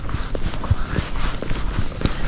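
A Tennessee Walking Horse's hooves strike a trail in a loose, uneven clip-clop rhythm, close and fairly loud. The footfalls are spaced irregularly over a steady outdoor background.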